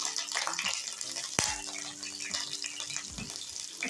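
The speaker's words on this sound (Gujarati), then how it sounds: "બે થી ત્રણ ચમચી જેટલું આપણે એની અંદર પાણી નાખી દીધું છે" Two or three spoonfuls of water go into hot tempering with green chillies and curry leaves for khaman dhokla, making a faint, soft splashing pour with one brief sharp clink partway through.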